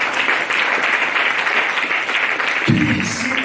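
A church congregation claps loudly and continuously in praise, a dense wash of applause that holds steady before a low rumble or voice joins near the end.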